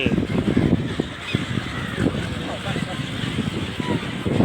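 A large flock of geese honking continuously, many overlapping calls near and far forming a dense, clamorous chorus.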